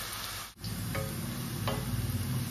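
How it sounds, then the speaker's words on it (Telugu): Onions frying red in a pan with half a teaspoon of turmeric and some salt make a soft, continuous close sizzle with small crackles, interrupted briefly by one short dip. "ఉల్లిపాయలు ఇలా ఎర్రగా వేగాయి కదండి."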